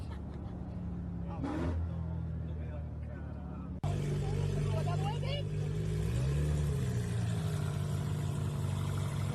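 Jeep Trackhawk engine revving with supercharger whine, a steady moderate engine drone that swells and rises in pitch partway through, with people talking over it.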